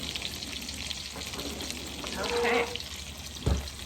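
Salmon frying in a pan being lifted with a spatula, a steady sizzle under a brief spoken word, with a soft scrape and a short knock near the end.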